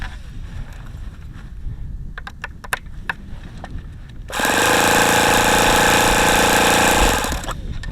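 An ASP FS65 model aircraft engine, a small glow four-stroke, running in cold weather: after some clicks and handling noises it bursts into a loud, steady buzzing roar close by for several seconds, then drops off.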